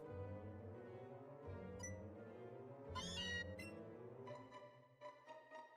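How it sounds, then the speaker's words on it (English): A Meowth cry from Pokémon: Let's Go, Pikachu rises as a short bright trilling call over steady game background music, standing out clearly for about half a second before the music carries on. "Oh, that's Meowth."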